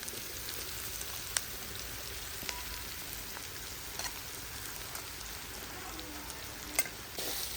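Grated plantain and grated coconut sizzle and fry in a pan while being stirred, a steady soft crackling hiss punctuated by occasional sharp pops and scraping, with no talk.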